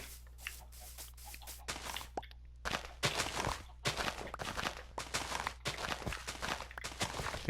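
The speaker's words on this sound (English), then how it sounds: "I just got 2 babies in a row. 2 baby chickens in a row." Baby chickens in Minecraft give a run of short, close clucking chirps mixed with soft footstep-like patters, coming in quick irregular bursts over a low steady hum, with no talking.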